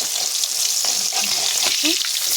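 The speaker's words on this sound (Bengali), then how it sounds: "মাছগুলো লাল লাল করে আমি ভেজে নিয়েছি" Pieces of pangas and tengra fish fry in hot oil, a steady bright sizzle filling the clip with a few soft scrapes and clinks of a utensil turning them.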